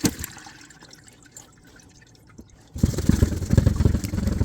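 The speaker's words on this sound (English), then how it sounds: "what we're going to do now is strain the solid from the liquid, reserving the liquid" Cooked quince pulp being strained, with liquid dripping and trickling close up, quiet at first and then a louder, steady splashing flow.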